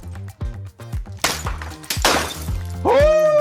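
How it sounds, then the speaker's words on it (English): A camera being smashed, a loud close crash with breaking and shattering bursts amid repeated heavy thuds and a rhythmic low background beat. "Day one of smashing a camera until Hasselblad sends me one for free."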